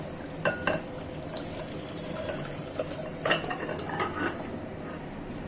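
A ladle scrapes and clinks in a pot of Bengali-style mutton kosha (slow-cooked goat curry) as the curry is spooned out. Soft stirring and occasional metallic knocks sound close over a low simmering hiss, with no voices.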